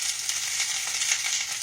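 Hoecake cornbread batter frying in a hot skillet gives a steady, bright sizzle that crackles evenly throughout, close and alone with no talking.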